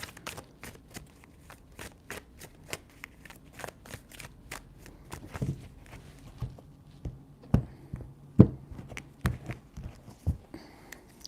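Tarot cards shuffled by hand in repeated bursts of crisp riffling and soft slaps, close and clear, with brief quiet gaps between passes.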